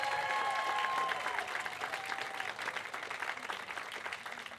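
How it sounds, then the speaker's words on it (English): Audience applause fills a family reunion event, dense steady clapping from a crowd that stays loud throughout and eases only slightly toward the end, with a few faint tones sounding at the start. "Can you guys give another round of applause for Charles?"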